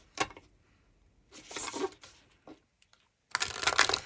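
Tarot cards are shuffled by hand in quick riffling bursts, three separate rounds of crisp papery flutter with short quiet pauses between them, close and clear with no voice.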